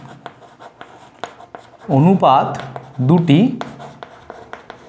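A ratio being written with a pen or chalk in a class 6 maths lesson, with light scratchy strokes and taps throughout and a speaking voice in the middle.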